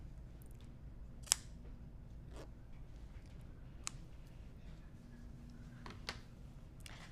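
Scissors trim a bit of quilt fabric on a pieced block, a few faint, sparse snips and clicks over a low steady background hum, without talk.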